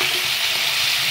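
Tomato with chilli powder and ground coriander frying in a pan, a steady close sizzle that holds evenly throughout with no voices.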